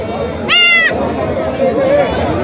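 A single goat bleats loudly for about half a second amid a busy livestock market, with crowd chatter and voices in the background, at the Khandoba goat market in Parbhani, Maharashtra, where adult goats and young kids are sold.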